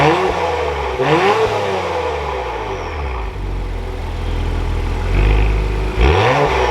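A 2023 Acura TLX Type S SH-AWD engine runs loud and close, its steady idle rumble broken by two quick revs that rise and fall, one near the start and one near the end.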